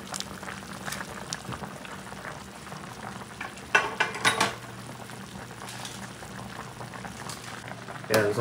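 Chicken adobo with Sprite and oyster sauce boiling in a pot, a steady bubbling simmer with occasional clinks of a utensil against the pot, close and moderately loud, with faint talk now and then.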